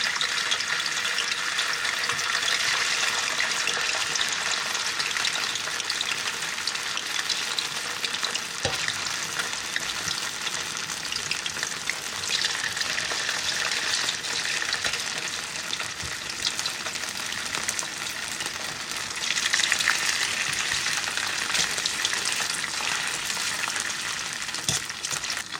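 Gnocchi sear in hot olive oil in a pot with a steady, close, broadband sizzle and crackle that holds for the whole stretch and swells briefly near the end, with no talking.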